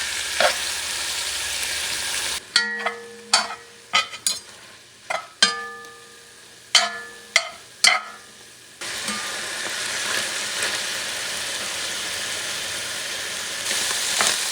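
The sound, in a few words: camel meat browning and sizzling in a pan for kabsa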